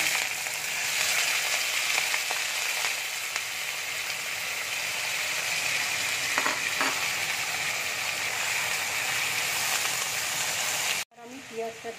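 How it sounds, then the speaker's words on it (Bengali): Potatoes fry in hot oil with a dense, steady sizzle that holds at an even loudness for about eleven seconds, then cuts off abruptly near the end. "তেল দেখো গরম হয়ে গেছে, এবার আমি আলুটা তেলের মধ্যে দিয়ে দিচ্ছি।"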